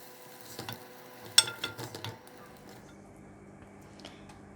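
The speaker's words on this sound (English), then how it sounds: "Stir the egg until it hardens and it forms up." An egg is stirred in a hot pan as it sets and firms, giving a short burst of sizzling with spatula scrapes and taps in the first two seconds, then a quieter fading hiss.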